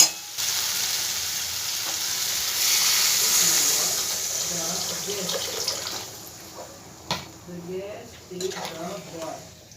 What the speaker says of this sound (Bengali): এবার আমি এর মধ্যে পরিমাণ মতন জল দিয়ে দেবো।